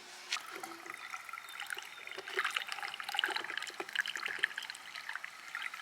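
Liquid sloshes and trickles softly as bleach is mixed with water for cleaning an RV fresh water tank, with light splashing and swirling water sounds close by.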